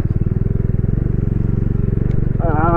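A motorcycle labours uphill from Leh toward the high Khardung La pass in Ladakh, its engine thumping in a loud, close, steady rhythm, with a brief rising voice near the end.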